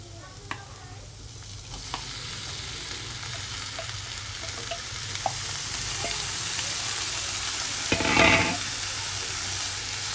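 Mutton sizzles and fries in a pan with ginger-garlic paste, a steady soft crackle with occasional stirring scrapes and a brief louder hiss near the end.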